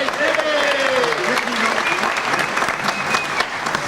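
A crowd claps steadily at a 1999 Cornell reunion show by a jazz band, sustained dense applause with some talk mixed in.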